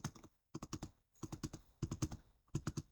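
Rapid bursts of computer keyboard typing while entering a field name in an Excel spreadsheet, close and crisp, in short clustered runs of keystrokes separated by brief pauses.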